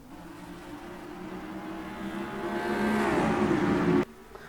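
Race trucks roar off the start in NASCAR Racing 2003 at New Hampshire in a Truck Series race, a dense pack of engines swelling steadily louder before cutting off abruptly near the end.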